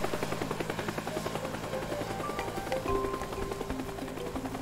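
A helicopter in Teardown thumps overhead with a steady, rapid rotor pulse and engine drone, close and fairly loud, with no talk over it.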